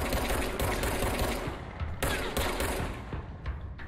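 Rapid automatic gunfire from an enemy weapon in the action game Control, a dense burst of bullet-like shots with a few sharper cracks standing out, loud and close.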